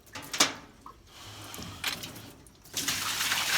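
Water from a 3/16 inch rinse bar line flows into a 2-gallon bucket, a steady broadband gush that swells and fades in bursts over a few seconds, with no talk.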